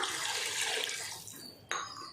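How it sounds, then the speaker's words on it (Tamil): Measured water is poured into rice in a pot for vegetable biryani, a steady close splashing pour that fades out before a brief sharp clatter near the end. "இப்போ நம்ம தண்ணியை சேர்த்துடலாம்."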